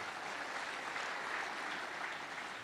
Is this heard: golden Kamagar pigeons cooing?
no